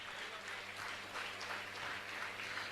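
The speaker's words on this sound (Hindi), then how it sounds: "जरा जोरदार तालियों के साथ मंच पर निमंत्रित करें।" An audience applauding a guest invited onto the stage at a religious discourse gathering, a dense, even wash of clapping from many hands, fairly distant and low in level, sustained throughout.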